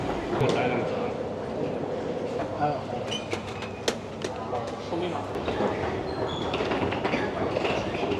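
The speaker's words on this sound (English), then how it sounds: "now I am at the metro station" Metro station in Dalian, China, with a train running on the rails, a loud rumble and clickety-clack, brief squeals and clicks, and people talking nearby.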